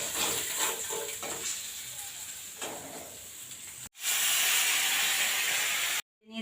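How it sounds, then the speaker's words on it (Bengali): Fish frying in hot mustard oil, a steady close hiss and sizzle that runs through the whole stretch, breaks off briefly twice and then comes straight back. "মাছগুলো ভেজে পরপর আমি তুলে নেব।"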